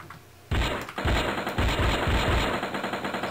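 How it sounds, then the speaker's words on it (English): Rapid automatic gunfire from the game Strike Force Heroes starts abruptly after a brief lull, then rattles on in quick, loud, repeated bursts. "Oh, I'm shooting the ground"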